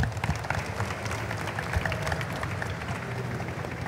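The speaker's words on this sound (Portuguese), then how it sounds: "uma salva de palmas" Audience clapping after a startup panel talk, a dense, moderately loud crowd applause with low rumble and scattered bursts that holds for the whole stretch.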